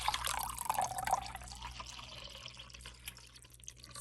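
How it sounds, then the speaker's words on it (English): White distilled vinegar poured from a 2-cup measuring cup into a container of water, a close splashing, bubbling pour that starts strong and gradually tapers into softer trickling. "I'm going to add 6 cups of white distilled vinegar"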